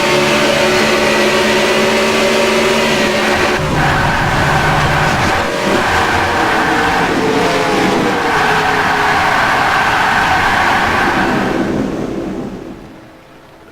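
A Bill Davis Racing Dodge in a racing video game roars loudly and steadily as it spins out and collides with other cars, grinding and rumbling for several seconds before fading sharply at the end, with no speech.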